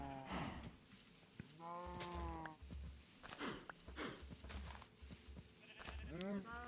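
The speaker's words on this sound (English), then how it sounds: "Oh, that sheep might have come back." Several wavering sheep bleats from the Minecraft video game, some close and loud, others softer, over a low game background.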